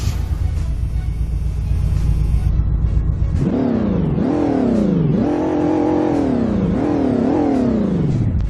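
A pickup truck engine in the Roblox game Greenville idles with a low rumble, then revs repeatedly, rising and falling in about six loud, close bursts.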